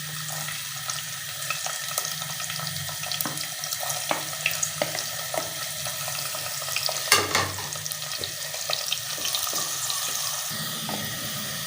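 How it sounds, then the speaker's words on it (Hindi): Onions browning in hot ghee for palak chicken, a steady hissing sizzle with occasional stirring taps and scrapes, close and fairly even throughout. "प्याज पहले ब्राउन कर लेते हैं।"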